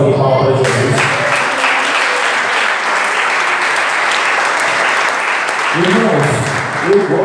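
Church congregation applauding for Jesus during a praise service, loud sustained clapping that fills the space, with voices and singing audible at the start and again near the end.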